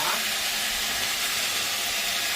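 Lentils are added to an ash gourd curry in a hot pan, producing a continuous loud, even sizzling hiss that stays steady throughout.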